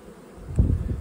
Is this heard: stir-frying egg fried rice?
no